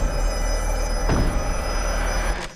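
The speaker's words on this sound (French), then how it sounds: "Je ne plus jamais entendre de téléphone sonner." A telephone bell rings steadily in an excerpt from the film The Black Phone 2, a continuous trilling ring over a low rumble, ending abruptly near the close.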